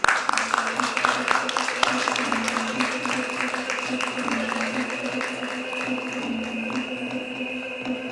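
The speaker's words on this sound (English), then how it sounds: "Let's hear a huge round of applause for them, please." An audience at a nursing conference in a Mumbai hotel claps, with loud, uneven applause at first that thins to lighter scattered clapping, while people talk over it.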